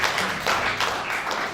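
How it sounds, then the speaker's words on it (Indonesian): Church congregation clapping during a worship service, a steady dense wash of many hands applauding together throughout, fairly loud and close. "berikan tepuk tangan yuk bagi Tuhan"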